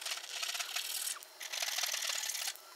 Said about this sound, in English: So the first piece to trim is our overhang here, so we're just using a nice flexible saw for that.